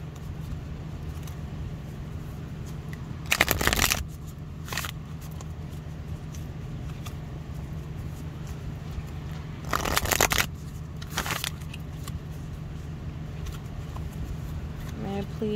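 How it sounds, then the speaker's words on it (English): Tarot cards being shuffled in two quick riffling bursts, close up, with a few softer shuffles in between over a steady low hum. "These are the only ones I'm shuffling on camera"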